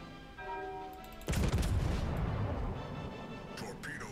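Naval ship guns fire in a World of Warships battle: a heavy boom hits at mid-clip and rolls into a long, loud rumble, with a voice talking over the first part.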